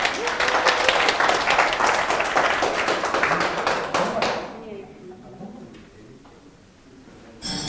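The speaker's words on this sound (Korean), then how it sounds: "되면 박수 한번 크게 한번 치소" Lecture listeners at the Ulsan facilities management corporation clap loudly for several seconds before the applause thins out and dies away, leaving a quieter room where a voice speaks.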